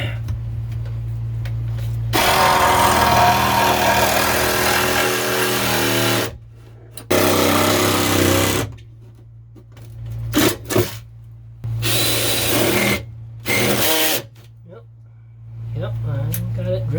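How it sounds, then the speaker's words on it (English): A power drill bores through foam on a small boat in several bursts of whirring and grinding, separated by short silences, with someone speaking near the end. "Yep, I got it drilled."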